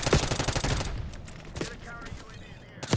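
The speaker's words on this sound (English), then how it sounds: "I'm getting gunned by ARs by an AK." An AK assault rifle in the multiplayer video game Black Ops 6 fires a fast automatic burst for just under a second, then a few sparser, quieter shots follow at a distance.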